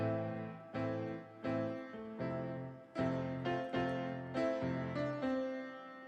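Slow piano chords struck one at a time, each ringing and fading before the next, a steady unhurried rhythm with no voices.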